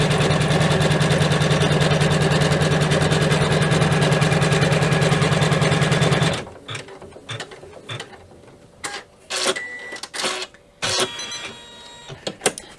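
A sewing machine stitches fabric for a zipper pouch design in a fast, steady mechanical whir for about six seconds, then stops, followed by scattered handling clicks and rustles.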